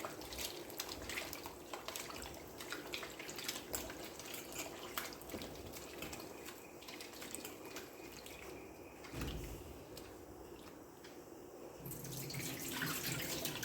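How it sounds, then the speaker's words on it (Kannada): Butter is washed by hand in water while making ghee, with quiet, continuous sloshing and trickling of water in a bowl or sink and occasional drips, no speech. "ಈ ರೀತಿ ಚೆನ್ನಾಗಿ ನೀರಲ್ಲಿ ತೊಳ್ಕೊಳ್ಬೇಕು"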